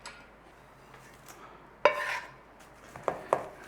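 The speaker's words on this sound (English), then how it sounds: "you can chuck it back in your bowl" Cooked vada pav filling tipped from a frying pan back into a mixing bowl: one sharp metallic scrape and clatter, then two quicker knocks of pan against bowl, close up in a quiet kitchen.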